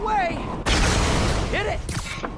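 Bombs drop and burst with loud, broadband blasts in Marvel's Spider-Man on PS4, Silver Lining DLC finale, two heavy explosions a second apart amid game voices and effects.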